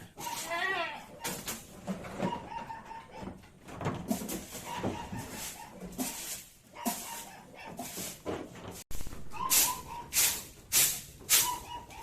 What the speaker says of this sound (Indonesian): pengkawinan kambing jantan dan betina